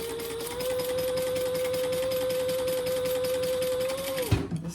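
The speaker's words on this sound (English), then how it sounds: "And then we will top stitch that seam open." A sewing machine runs in one continuous, even burst while topstitching a seam open on a fabric clutch wallet, with a steady whirring pitch, then stops abruptly with a small clunk near the end.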